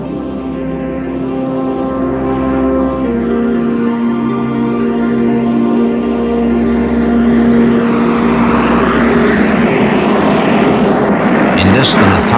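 A Boeing 747 jumbo jet, the 317-ton, 16-wheeled largest passenger aircraft, powers up for takeoff in a loud, sustained engine roar. A steady droning tone swells into broadband rushing noise as thrust builds, with a narrator speaking over it.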